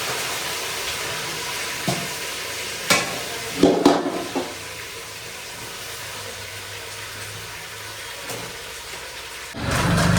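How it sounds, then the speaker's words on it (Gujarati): Vegetable curry of potatoes and small eggplants being tempered in hot oil, with a soft steady sizzle and stirring clatter, a few louder bumps and a rising burst near the end, no talking. "અત્યારે હવે આપણે શાકનો વઘાર કરી દઈએ છીએ."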